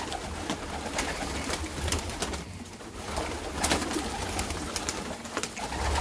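Several pigeons coo steadily and continuously, soft throaty calls close by, with occasional sharp clicks and flutters mixed in.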